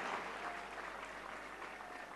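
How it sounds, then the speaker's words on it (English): An audience at a student parliament event in Pune claps in a dense, continuous round of applause, faint and steady throughout the short stretch, with no talk. "We must give a big round of applause."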